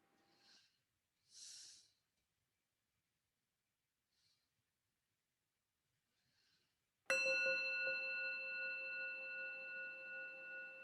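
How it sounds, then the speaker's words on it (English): A meditation bell is struck once after a few quiet breaths and soft sounds. It rings out clearly, then sustains a long, shimmering, slowly fading tone in a silent room. "We will begin with the sound of the bell."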